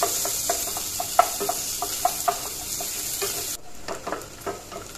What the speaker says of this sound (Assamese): এতিয়া ইয়াত মই পেষ্টখিনি দি দিলোঁ পেষ্টখিনি অলপ ৰংচঙা হ'বলৈ দিম